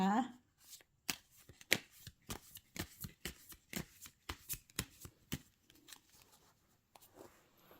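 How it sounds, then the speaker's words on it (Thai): Tarot cards being shuffled and cut by hand, heard as a close, brisk series of sharp riffling snaps and slaps in an uneven rhythm. A brief voice is heard at the start. "ขอเป็นตัวแทนสับไพ่ตัดไพ่ให้คนเกิดวันพฤหัสนะคะ"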